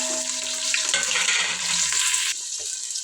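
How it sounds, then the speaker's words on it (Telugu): Chopped onion and green chillies frying in hot oil in a home kitchen, a loud continuous sizzle with some stirring, steady throughout and easing slightly near the end, with no voices over it. "ఇప్పుడైతే పచ్చిమిరపకాయలు ఉల్లిగడ్డ వేసేసి ఇవైతే కొంచెం దూరగా వేయించుకుందాము"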